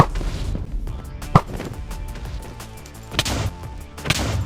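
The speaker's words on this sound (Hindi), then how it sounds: "मैं जितने भी एंडर क्रिस्टल थे उनको फोड़ने लगा बारी बार में" Minecraft Bedrock Edition ender crystals blown up one after another in the End, sharp booming explosions at irregular intervals over continuous in-game background sound.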